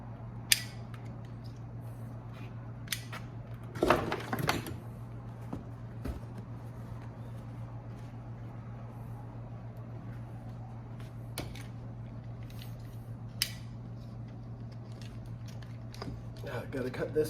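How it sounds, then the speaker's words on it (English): Quick incisions are sliced into a mini bike seat, producing scattered crisp cutting snips and crunches, densest early on, over a steady low electrical hum. "So we're going to add some quick incisions in this seat here."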